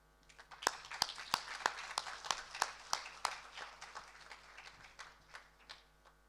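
Sparse, faint, evenly spaced hand claps from the audience at a school commencement ceremony in Yangon as the keynote speaker is welcomed to the stage. The clapping sounds distant and thin, with no voices over it.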